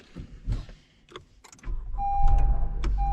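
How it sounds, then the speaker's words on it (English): A car starting on its own, with a few faint clicks and mechanical noises followed by a rising engine rumble and a steady whine as it turns over and settles into a low idle, without voices. "this car starts itself"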